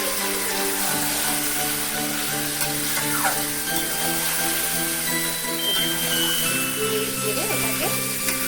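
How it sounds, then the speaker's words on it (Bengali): Mutton sizzles steadily in hot oil with bay leaf and whole spices as it is sautéed, a close, continuous frying hiss with occasional stirring scrapes; faint voices are present. "মাংস অনেকটা টাইম লাগে কষাতে, এটাকে কষানো হচ্ছে"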